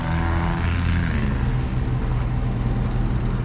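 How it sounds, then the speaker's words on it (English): A 5500-watt Onan gasoline generator runs aboard a 2007 Damon Challenger 377 Class A motorhome on a Ford chassis, giving a steady, loud, continuous engine drone with a low hum throughout, no voices. "It's got a 5500 Onan gasoline generator running right now, powering everything inside with 171 hours on it."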